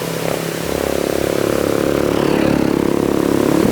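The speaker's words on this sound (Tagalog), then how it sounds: "yan yung may motor na parating" A motorcycle engine drones loudly and close by at a resort entrance, holding a steady mid-pitched buzz that swells slightly as it comes nearer.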